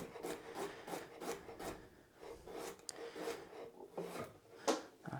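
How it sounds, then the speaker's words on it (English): A knife slices half a carrot on a cutting board in quick, rhythmic strokes, each cut landing as a soft, close thunk and the chops following one another about twice per second. "the second half of the carrot, I'll just cut into little slices"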